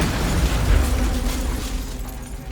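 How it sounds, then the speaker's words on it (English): A dense, rumbling blast from a detonating bomb rolls continuously and loudly, heavy in the low end, with no voices. "The bombs detonate upon opening"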